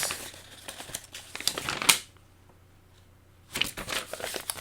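A paper copy of a shipping label from a mail package crinkles and rustles up close in bursts, with a sharp tear-like crackle, a quiet pause, then more crumpling.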